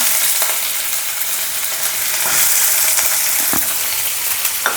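Onions frying in hot oil in a pan for creamy chicken pasta, a steady close, bright sizzle with a few stirring clicks and no voices.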